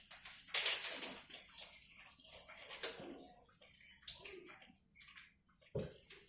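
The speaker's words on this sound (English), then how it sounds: "I'm just going to drain my tofu because it's in water, of course." Water is drained from a package of tofu in a kitchen: quiet, irregular splashes and trickles with a few short pours and drips, close by but faint.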